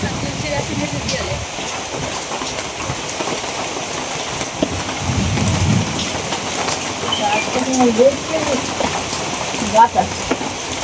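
Heavy rain pours steadily through a night storm, a dense continuous wash with a low rumble swelling near the middle that may be distant thunder; faint voices sound in the background.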